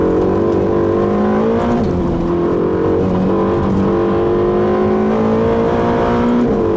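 A loud Ferrari California T engine roars continuously on a race track, its pitch rising and falling as it accelerates and shifts, close and sustained with no voices.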